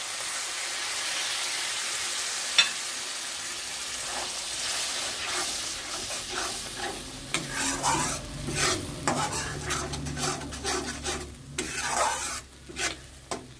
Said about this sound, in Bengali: টমেটোটাকেও সুন্দর করে ভেজে নেব।